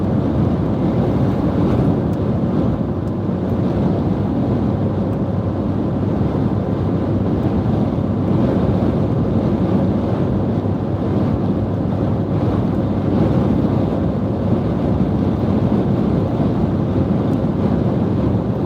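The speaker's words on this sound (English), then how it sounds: "Wind is cranking" Strong storm wind from a rear-flank downdraft blows across open North Dakota fields, a loud, continuous roar with heavy buffeting on the microphone and no let-up.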